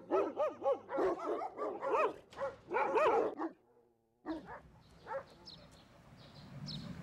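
Several dogs bark repeatedly at a dog and cat shelter in Beijing, a rapid run of close, loud barks, then a short pause, followed by quieter yips and whimpers among background shelter noise.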